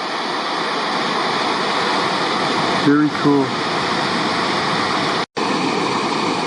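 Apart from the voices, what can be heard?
Wapta Falls waterfall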